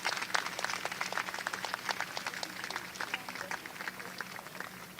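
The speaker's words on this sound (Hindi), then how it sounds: "ताली आप सभी की बजती रहे" Audience applause at a Youth Day government event in Bhopal, many hands clapping in a steady, fairly distant patter that continues throughout.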